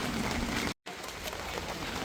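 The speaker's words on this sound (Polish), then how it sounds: "Pada deszcz" Steady rain falls at a campsite in Italy during a storm, a dense even patter on surfaces that fills the whole stretch apart from one brief drop-out near the middle.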